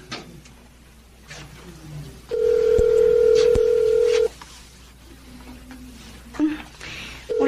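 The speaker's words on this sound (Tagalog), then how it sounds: "Tawagan ko kaya si Sally" A telephone dials and rings indoors, each long ring tone steady and loud, with a few soft household noises and nobody picking up.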